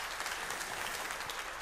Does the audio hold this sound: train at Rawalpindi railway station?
no